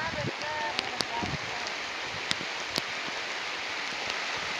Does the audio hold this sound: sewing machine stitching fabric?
no